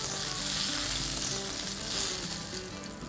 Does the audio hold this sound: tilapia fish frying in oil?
yes